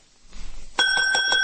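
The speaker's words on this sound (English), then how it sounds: "There was a bell on the counter." A counter bell is struck once in a radio drama, a bright ring that cuts in after faint rustling and hangs on with a sustained metallic tone.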